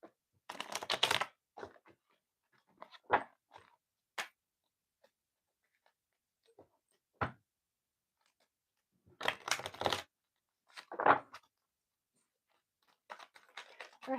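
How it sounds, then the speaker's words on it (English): Tarot cards from a mystical forest deck shuffled by hand in short, crisp riffling bursts separated by quiet pauses, close and moderately loud, with no talking. "Give these a little shuffle"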